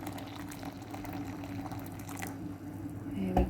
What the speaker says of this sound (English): I've boiled the kettle. I'm just going to pour the amount of water I need for this mixture into the